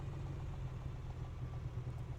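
Piston engine of an A2A Comanche in a flight simulator, running leaned with a steady low-pitched drone that roughens slightly, continuous and close with no talk.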